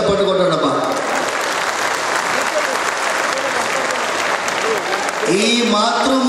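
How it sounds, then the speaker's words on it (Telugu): A crowd of devotees at an Ayyappa Maha Padi Puja in Kolluru bursts into loud, sustained applause for the seated mothers, thick steady clapping filling the hall, with a voice speaking near the end. "ఇక్కడ కూర్చున్నటువంటి మాతృదేవతలకు అందరికీ ఒకసారి గట్టిగా చప్పట్లు కొట్టడమ్మా"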